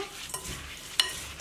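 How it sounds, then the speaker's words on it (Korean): A spoon stirs the yaksik rice mixture with chestnuts, brown sugar, salt and water in a rice cooker pot, faint soft scraping with one or two sharper clinks, quiet and close. "그리고 잘 섞어주세요"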